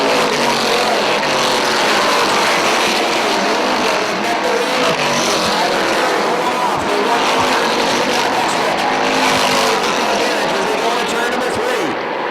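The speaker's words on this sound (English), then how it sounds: "Tyler Terry in the 44 keeps it down on the inside, now pushes up towards the top of the racetrack." Dirt modified race cars roar around the dirt oval at Airborne Speedway in Plattsburgh, NY, in a loud, continuous wash of engine noise with passing surges and a race commentator talking over it.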